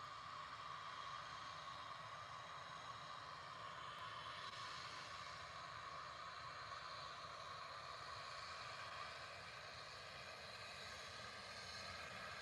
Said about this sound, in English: It's nice to have this PC12 in and out.